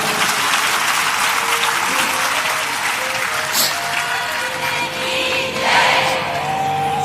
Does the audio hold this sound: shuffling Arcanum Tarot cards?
no